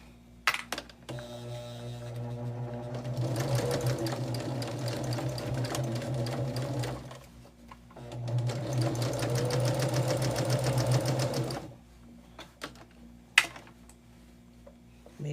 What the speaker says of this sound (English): Let's take it to our machine and do that final stitch.